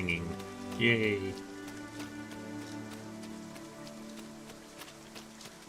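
Steady, soft rain patter in a video game, Dragon's Dogma 2, with a faint tone and background sounds layered over it near the start.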